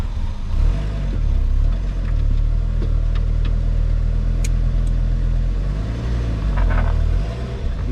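A car engine runs steadily after starting, with a deep low rumble that holds throughout. The clutch is not stuck. A few light clicks and rattles sit over the drone.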